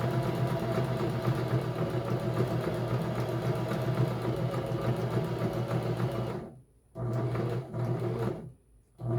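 A domestic sewing machine zigzag stitches fabric for a vintage-style apron, running in a steady, loud mechanical whir for about six seconds, then stopping and starting in two short bursts with brief pauses between.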